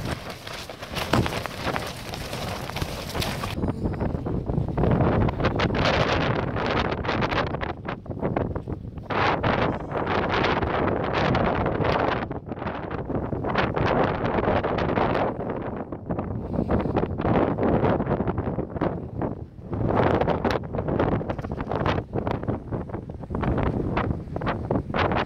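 High winds batter a duplex tent, loud continuous roaring gusts with flapping fabric and rushing, rain-like hiss pressing right against the microphone throughout.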